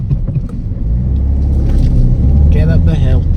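A Citroen DS4 with a fuel rail pressure sensor problem drives up a hill, its engine and road noise making a steady, loud, low cabin rumble throughout, with someone speaking briefly over it toward the end.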